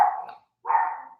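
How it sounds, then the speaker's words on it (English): A pet dog gives two sharp, separate barks indoors, each short and moderately loud, with a brief silent gap between them and no talking. "That's my dog, Gus, freaking out about something."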